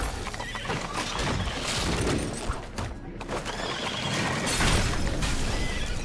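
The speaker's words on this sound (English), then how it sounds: "Somebody said there was an explosion and then my horse startled." Startled horse neighing in the video game The Devil's Daughter amid a dense burst of game noise, a loud whinny rising over crashing, clattering hooves and explosion debris.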